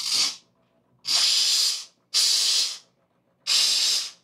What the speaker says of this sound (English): And that thing is steaming.